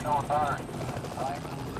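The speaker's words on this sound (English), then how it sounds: "we're letting our helicopter that's following above right now to keep track of him" A police helicopter flies overhead during a pursuit, its steady rotor drone running throughout under radio-style talk.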